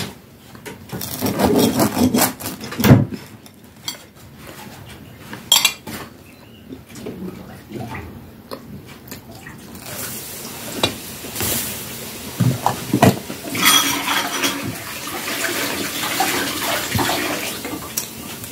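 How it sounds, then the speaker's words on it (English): Dishes and cutlery being washed at a home kitchen sink, with running water, clinking plates and rattling utensils in irregular bursts, close and fairly loud, and no voices. "Si Hubby ang naghugas ng dishes."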